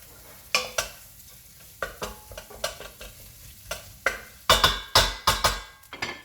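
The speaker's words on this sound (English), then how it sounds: "Give that a mix up." Seasoned ingredients being stirred in a hot pan of frying oil for a deep-fried cheese curry, with repeated scraping strokes over a steady sizzle, close and fairly quiet, no talking.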